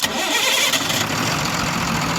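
A Tata BS4 diesel vehicle with a rail pressure sensor fault, low pickup and poor mileage cranks briefly, then catches and settles into a loud, steady diesel clatter nearby.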